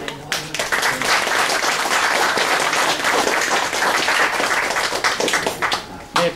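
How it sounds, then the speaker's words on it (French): Sustained, loud applause from a crowd at an annual reunion of former members of an engineer battalion in Cholet, dense clapping that swells and holds before tapering at the end. "on peut les applaudir bien fort"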